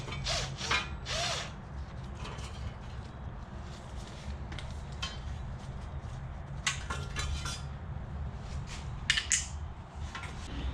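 Dust shield being worked off a Mustang GT rear wheel hub: faint scraping and metallic clinks and rattles come in short clusters over a low background hum, close by, with no talk.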